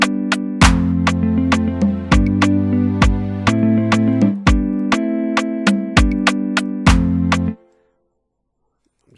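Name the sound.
clap sound sample in FL Studio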